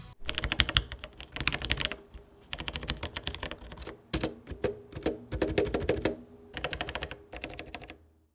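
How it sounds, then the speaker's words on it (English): Mechanical keyboard with switches similar to Cherry MX Browns typed on in quick bursts of clacking keystrokes separated by short pauses, close and clear with no talking. "I'll give you guys a quick little sound test."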